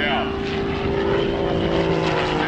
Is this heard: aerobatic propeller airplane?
yes